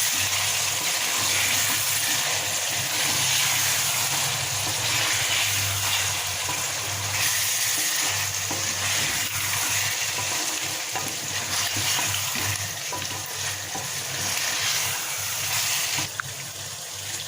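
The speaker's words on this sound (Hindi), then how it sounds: "ये चिकन हम इसमें शामिल कर देते हैं ग्रेवी में। अब इस तरह से आप हिला दें" Chicken tikka pieces are stirred into a simmering tikka masala gravy in a pan, giving a steady wet bubbling sizzle with soft stirring sloshes throughout and no talking.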